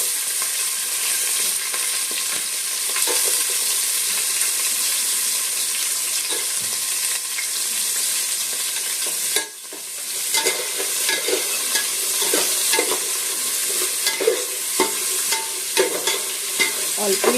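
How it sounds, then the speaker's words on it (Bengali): Carrots and beans fry in a little oil and ghee with cinnamon, cloves and bay leaves, a steady close sizzle with intermittent stirring scrapes and clinks throughout, briefly dipping midway. "আর এবার গাজর এই যে বিনসগুলো একটু ভেজে নেবো।"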